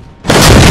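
A video game shotgun firing a scatter shot, one loud booming blast bursting in after a quiet moment and ringing out at full strength.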